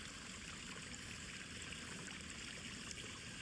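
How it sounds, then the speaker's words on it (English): A stream flowing beneath a small wooden bridge in a tropical nature reserve, with a waterfall just above, giving a soft continuous trickling and rushing of water at low volume. "Now we come to a small wooden bridge where there is a stream"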